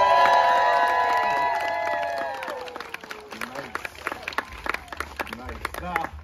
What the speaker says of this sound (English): occasionally, it gets a round of applause